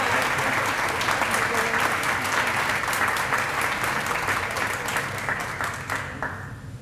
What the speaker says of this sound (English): let's give Dee Walker a round of applause